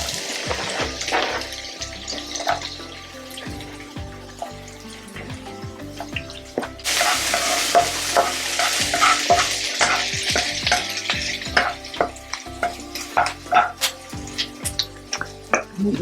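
Garlic and onion sautéing in oil in a pan for vegetable spring roll filling, a steady close sizzle with repeated stirring clatter, the frying growing louder and brighter midway.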